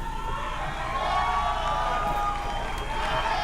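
A press-conference crowd in Texas cheers and roars for Nate Diaz, a dense, steady wall of loud crowd noise throughout the short stretch.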